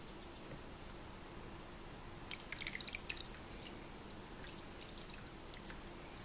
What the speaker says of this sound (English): And now we're going to slowly add our lye mixture.